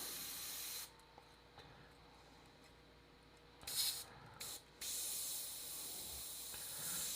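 An Iwata Micron airbrush spraying at high pressure, around 40 psi, gives a steady, thin hiss that cuts out and starts again several times. Brief louder bursts come through between the quiet gaps. It is close and faint overall.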